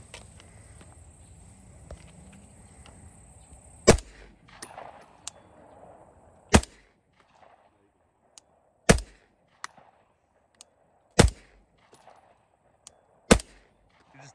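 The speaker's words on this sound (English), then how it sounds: "So I'm gonna do 5 rounds unsuppressed and then put the suppressor on it and go 5 more rounds." Five loud, unsuppressed gunshots from a firearm fired outdoors, each a sharp isolated crack spaced a couple of seconds apart, with faint insect chirping and quiet background between shots.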